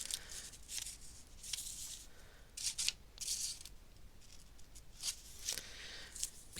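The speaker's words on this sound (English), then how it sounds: "I'm just going to cut up there because we've got two pieces going on here" Scissors snipping through fabric pieces for a slow-stitch portrait, a series of quiet, close crisp cuts in irregular bursts over a soft rustle of cloth.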